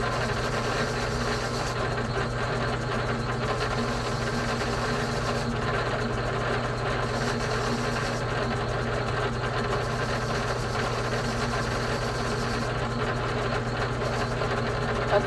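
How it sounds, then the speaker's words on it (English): A motor-driven wire wheel hums continuously as rusty engine block plugs from a 2001 Ford 7.3 diesel Super Duty are cleaned, with a steady whirring drone and periodic shifts in brushing texture as parts are pressed against it. "I'm going to touch those up on the wire wheel before I reinstall them"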